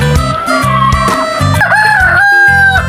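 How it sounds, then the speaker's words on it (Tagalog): A native hen cackles loudly and close by in a rapid run of harsh, repeated clucking calls that fill the whole stretch, with no talking. "Yan, nagputak-putak to guys yan oh, yung native."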